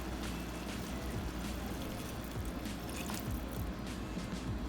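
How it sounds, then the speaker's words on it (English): Water is poured into a pot of ramen broth, a steady splashing, gurgling wash that runs evenly throughout at moderate loudness with no talking. "I am about to add the last and final"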